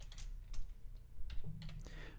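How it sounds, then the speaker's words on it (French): Typing a web address on a computer keyboard: a steady patter of soft key clicks running throughout at close range, with a few louder bursts. "nous allons taper l'adresse de Google"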